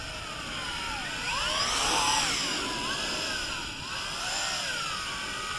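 A JJRC H16 Tarantula X6 quadcopter with a newly replaced motor flies nearby, its motors giving a high, continuous whine that rises and falls in pitch as it manoeuvres.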